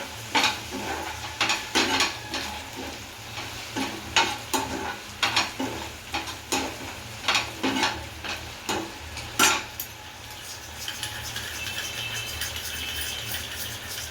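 Tomato sauce sautéing and being stirred in a pan for a red chilli dish, a steady sizzle broken by repeated scraping stirs through the first ten seconds, then an even frying hiss alone.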